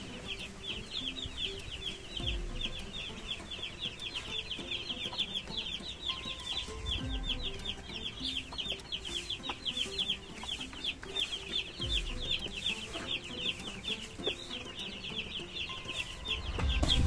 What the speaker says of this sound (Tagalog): Pakainin mo yung mga manok ha.